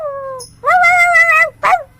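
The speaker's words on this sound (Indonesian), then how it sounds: "Suara anjing." A dog giving loud, close whimpering yips in three short bursts, the middle one longest and most tonal.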